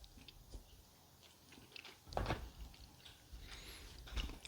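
Close, wet chewing on a pliable, sweet piece of beef jerky torn off by hand, with soft irregular bites and mouth sounds building louder toward the end.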